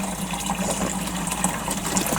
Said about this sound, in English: filling up the watering can